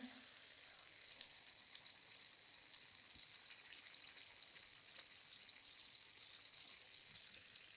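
Sea bream fillets sizzle in a hot frying pan, a steady, fairly soft hiss of spitting oil that holds evenly throughout without talk.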